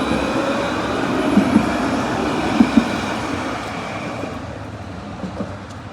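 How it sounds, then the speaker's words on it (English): A Paris Metro Line 7 bis prototype MF88 train, ordered in 1988, rumbles through the Pré-Saint-Gervais station, with a loud steady rolling drone, a few sharp wheel clanks and squeals, and the roar gradually fading. "Metro Line 7 bis, which uses the prototype MF88 trains, which were ordered in 1988"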